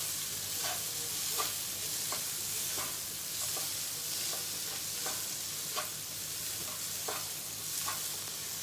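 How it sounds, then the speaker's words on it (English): Capsicum frying in a pan with a steady sizzle, punctuated by regular scrapes and clicks of a spoon stirring, close and fairly quiet. "I'm going to add the capsicum now in the pan. Give it a good stir."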